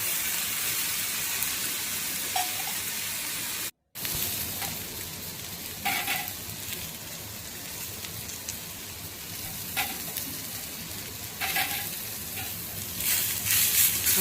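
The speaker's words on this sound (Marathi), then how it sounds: "आपला मसाला चांगला भाजून घ्यायचा व्यवस्थित" Masala with ginger pieces roasting in a pan for egg masala gravy, a soft, even sizzle with occasional stirring scrapes, close but fairly quiet, briefly cut to silence once early on.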